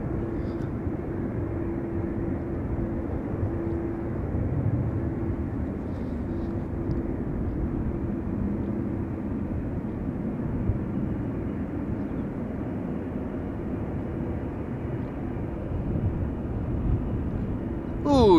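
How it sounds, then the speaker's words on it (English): TUI Boeing Dreamliner airliner taxiing at Amsterdam Schiphol Airport, bound for Curaçao, a steady low jet engine rumble and whine holding near-constant loudness throughout, with no talk over it. "TUI Dreamliner to Curaçao, coming this way."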